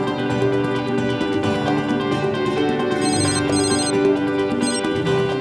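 A telephone rings in a Hindi-dubbed South Indian film, a steady electronic ringtone pulsing continuously and loudly throughout, with no voices over it.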